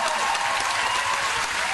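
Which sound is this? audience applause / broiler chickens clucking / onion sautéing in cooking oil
audience applause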